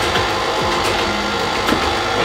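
Stand mixer fitted with a paddle attachment beating lemon cookie dough, a steady motor whir with rhythmic churning and knocking from the bowl, running continuously up close.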